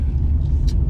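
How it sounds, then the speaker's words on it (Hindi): A car passing behind on a road in Nainital, a steady low rumble of traffic noise, loud and continuous, with no talking. "पीछे एक चोमू जाने की कोशिश कर रहा है गाड़ी क्रॉस करने की"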